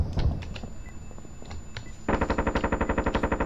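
Rapid automatic gunfire from the tactical shooter Due Process crackles in a steady, evenly spaced burst, preceded by scattered single shots and muffled game noise.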